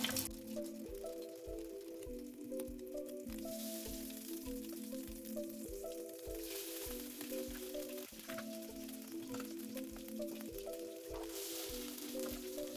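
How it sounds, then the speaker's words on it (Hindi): Shami kababs shallow-fry in hot oil, a faint, steady sizzling hiss that runs beneath looping background music. "अब हम इसके अंदर अपने शामी कबाब ऐड करेंगे और इसे शैलो फ्राई कर लेंगे"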